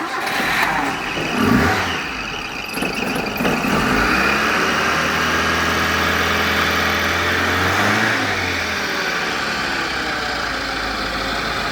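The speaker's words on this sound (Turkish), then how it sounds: "Araca marş yapıyoruz." A Tofaş Şahin car with a newly replaced hydraulic steering box is cranked and its engine catches, revs briefly, then settles into a steady, loud, close idle, with no talk.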